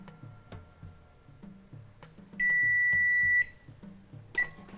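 A rice cooker signals that brown rice has finished cooking with a long, loud electronic beep followed by a brief second chirp, over a quiet background of soft rhythmic ticking.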